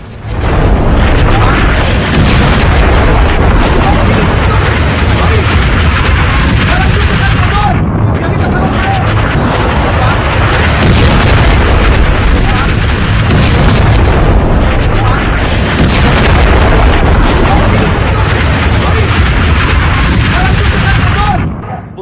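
Missile strikes on Tel Aviv during the Iran–Israel conflict, heard as continuous loud, rumbling booms and blasts filling the whole stretch, with a voice talking over the din.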